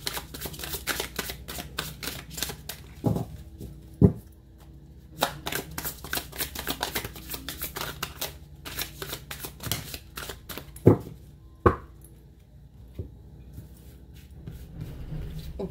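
Tarot cards are shuffled close up in a series of quick riffles and crisp slaps, repeated in bursts with a few louder taps, without any voice.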